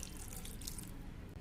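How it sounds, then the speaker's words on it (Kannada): Water is poured into a cooking pot of vegetables for poha bisi bele bath. It gives a brief, soft trickle and splash, quiet and close. "ಸ್ವಲ್ಪ ನೀರು ಹಾಕೊಳ್ಳೋಣ."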